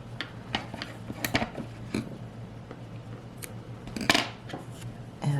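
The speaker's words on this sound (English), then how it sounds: "Now we can cut both of these." Scissors snip through strands of crochet yarn in a few quick, sharp cuts, with small handling clicks in between, close and fairly quiet.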